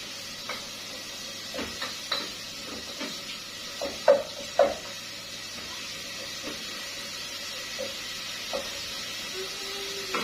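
Sardines (omena) deep frying in oil: a faint, steady sizzling hiss under scattered light clinks and taps of a utensil against the pot, quiet and without speech.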